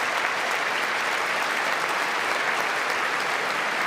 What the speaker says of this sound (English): Watch them like applaud him out after that.